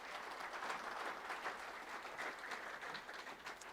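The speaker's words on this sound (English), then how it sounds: "A round of applause for Dr. Renee Corner." Audience applause at an evening farming awards ceremony, steady dense clapping that holds at a moderate level for the whole stretch with no voices over it.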